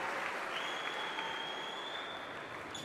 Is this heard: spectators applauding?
yes